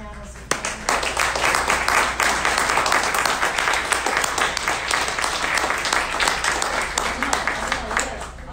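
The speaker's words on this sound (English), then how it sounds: "give us a round of applause here for the panelists." Sustained applause from an audience for a panel at a Queering Turtle Island community event, steady dense clapping lasting several seconds, loud and close.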